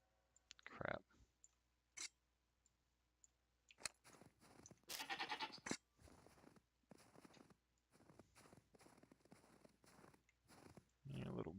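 A goat bleats in the Magic Arena digital card game, with short bleating bursts mixed among scattered clicks and a few other brief game noises.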